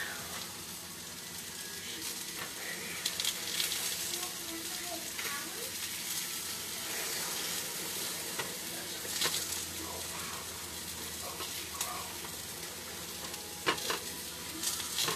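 Apples frying in a pot with salt and black pepper give a steady, low sizzle that runs the whole time, with occasional soft stirring scrapes and small pops on top.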